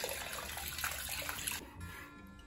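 Hot water pours into a pot holding salted meat to desalt it, a close, steady rushing splash that stops abruptly partway through, leaving only a faint residual hiss.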